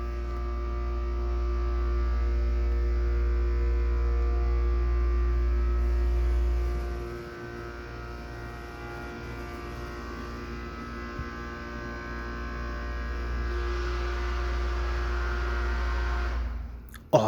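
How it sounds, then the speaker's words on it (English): Steady low mains-style hum of a hotel machine room at the Inn at Middletown, Connecticut, droning loud and constant, easing slightly partway through, then rising briefly in a brighter whir near the end. "And here's the machine room."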